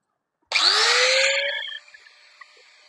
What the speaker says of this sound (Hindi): मैक्स कंपनी का ग्राइंडर है, 850 वाट का, और 5 इंच का ये ग्राइंडर है। तो ये भी हम चला के चेक करते हैं इसको